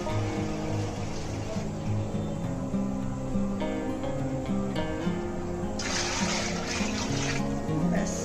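Water poured into a large cooking pot of tehari made with rice and mung dal, a steady gushing, splashing flow close by that grows brighter and fuller near the end.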